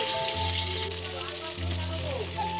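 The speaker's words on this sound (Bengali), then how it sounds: "এ দেখো তোমরা পটলগুলো তেলে ছিঁড়ে দিলাম" Pieces of pointed gourd drop into hot oil in a wok and fry with a steady close sizzle, partly masked by a low tonal hum, with a brief voice heard over it.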